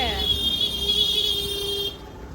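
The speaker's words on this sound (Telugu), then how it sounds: "ఎందుకు హారన్ కొడుతున్నారు" A sustained car horn blares steadily for about two seconds, loud and close, over background traffic noise, then cuts off abruptly.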